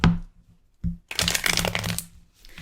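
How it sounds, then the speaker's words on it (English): A deck of tarot cards is shuffled close up: a short riffle at the start, a brief snap, then a longer dense crackling burst of cards riffling and bridging, ending with another quick flutter. "Let's crack open the deck. Let's shuffle and let's see what you need to know about this."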